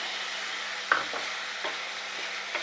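Green chili, onion and capsicum roast in a pan, giving a soft, steady sizzle with a few scraping stirs of a spatula and no talk.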